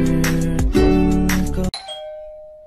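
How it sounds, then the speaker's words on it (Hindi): A two-tone ding-dong doorbell chime rings out clearly just after a stretch of loud music, its tones ringing on and slowly fading alone. "अच्छा, जाने में भी घंटी बजती क्या?"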